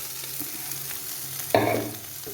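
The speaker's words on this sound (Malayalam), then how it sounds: "ഇനി നമുക്ക് ചിക്കൻ ഇട്ട് കൊടുക്കാം" Chicken pieces added to a pan with shallots for a Kerala chicken thoran, quiet sizzling first, then a louder burst of frying hiss and stirring as the meat hits the oil, fading back down.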